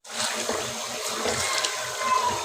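Water splashes steadily into a cooking pot of palak chicken, a continuous close, bright pouring rush that runs the whole time without voices.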